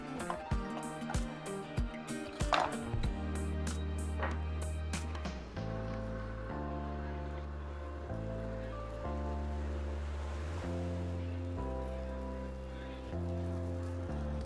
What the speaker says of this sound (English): my pan is ready and I'm gonna add my pork belly